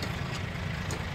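Suzuki Wagon R with an R06 engine running smoothly at idle, a low, steady rumble heard close by for a brief moment, with no voices.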